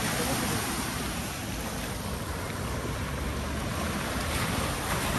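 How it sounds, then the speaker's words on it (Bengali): Sea waves on a Sri Lanka beach make a steady, loud roar of surf, with a continuous wash of water and wind buffeting the microphone the whole time. "আমরা একটু অপেক্ষা করি এই ঢেউগুলো আরেকবার চলে আসার জন্য"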